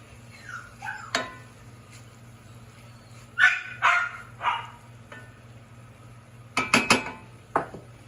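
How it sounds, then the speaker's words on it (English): A house dog barks several times in bursts in a home kitchen while taco filling is being prepared, with pots, pans and utensils clinking in between; the barks are sharp and fairly close over a low background hum. "Excuse the dog."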